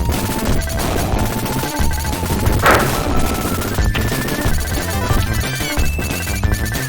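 Missiles fire from both the boss and the player in the Contra: Hard Corps video game, a loud, chaotic stream of rapid shots and explosions over driving game music, with one heavier blast midway.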